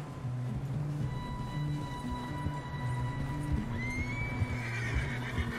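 A horse in the Red Dead Redemption 2 video game neighs and whinnies over steady clip-clopping hooves, fairly close, with the whinny rising toward the end.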